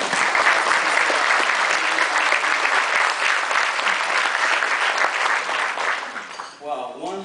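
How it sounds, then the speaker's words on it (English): A dinner audience at an Eagle Scout recognition banquet applauds steadily and loudly for about six seconds, the clapping thinning out at the very end as a voice begins to speak. "give the Aloha Council a nice round of applause"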